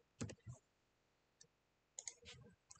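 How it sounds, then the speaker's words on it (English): Keys clicking on a computer keyboard during MATLAB setup, a few sharp separate presses at close range: a quick double click at the start, a lone tap midway, then another short burst of clicks near the end. "I press enter."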